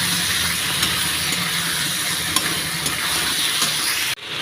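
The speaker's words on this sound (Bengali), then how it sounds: "পেস্টটা দিয়েও ভালোভাবে আরও নাড়াচাড়া করে নেব" Ginger, garlic and cumin paste frying in a pan for a tengra fish recipe, a loud continuous hissing sizzle with faint stirring knocks, close up, cutting off abruptly near the end, no voices.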